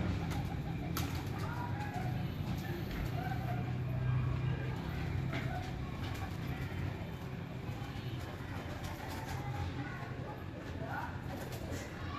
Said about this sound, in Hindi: ये है जी मेन कबूतर जिसका नाम हमने टॉनी रखा हुआ, वो मादा थी।